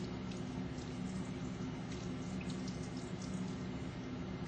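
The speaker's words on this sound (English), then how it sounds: "Performs hand hygiene procedure by wetting hands and forearms and washing using soap" Hands and forearms are washed with soap under warm running water, heard as a steady, soft, continuous rush of water with faint scrubbing and no voices.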